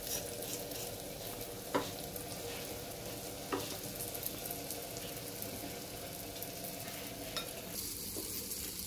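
Surmai (kingfish) pieces fry crisply in a pan, a soft steady sizzle with a few sharp clicks of a spatula against the pan, no one speaking.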